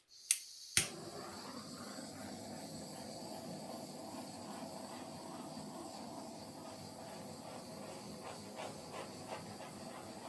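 Two sharp clicks from a torch igniting, then a steady soft hiss of the flame as it sweeps over a wet cloud pour painting, faint and continuous with no talking.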